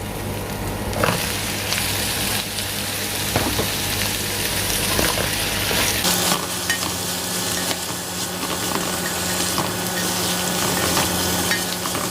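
Meat sizzles loudly as it is sautéed in a pan, a steady close frying hiss broken by occasional stirring scrapes and clatter, with no talking.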